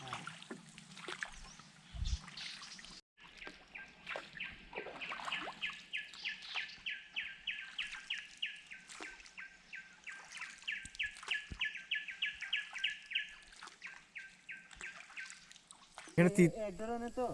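Many birds chirp and tweet in rapid repeated calls, fairly close, with scattered voices and small knocks mixed in.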